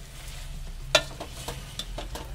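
Shredded cabbage frying in a pan for an aloo patta gobhi sabzi, a steady close sizzle with scattered scraping and stirring clicks of the spoon throughout.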